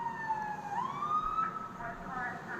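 An ambulance siren wails in traffic with a steady rising and falling tone that sweeps up and holds, fairly close and loud above a low rumble of road noise.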